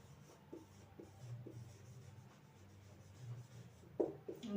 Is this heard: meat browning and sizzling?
no